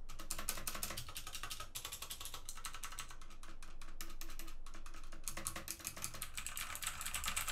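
Fast, steady typing on the stabilized keys of a Modecom Volcano RGB Lanparty mechanical keyboard with clicky Outemu Blue switches, a continuous stream of sharp, close clacks with no pauses.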